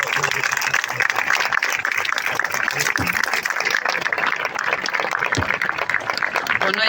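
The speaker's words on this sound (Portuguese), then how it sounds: "peço uma grande salva de palmas para a próxima Presidente da Junta de Freguesia da Misericórdia" A large audience claps and cheers steadily and loudly for Carla Almeida, the candidate for president of the Junta de Freguesia da Misericórdia, at a Lisbon campaign launch evening, a dense continuous wash of applause.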